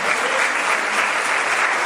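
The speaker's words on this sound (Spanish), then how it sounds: "¿Cuánto le puede dar un aplauso al Señor?" A church congregation claps in a dense, steady burst of applause, loud and even throughout, with no break or talk.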